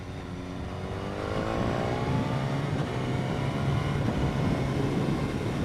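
A 2015 BMW S1000R motorcycle accelerates hard through its gears. The engine note climbs steadily in pitch, close and continuous, with a short break at each upshift and wind rush underneath.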